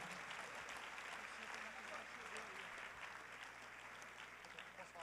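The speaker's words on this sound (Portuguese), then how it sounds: "E aplauda ao Senhor." Faint congregational applause during a church service, a dense steady clatter of many hands heard from a distance alongside a low hum and murmuring voices.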